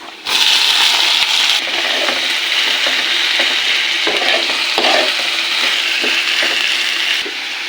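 Onions browning in a hot pan sizzle steadily while a utensil stirs and scrapes through them, making a dense, continuous frying hiss with intermittent clicks and scrapes close by.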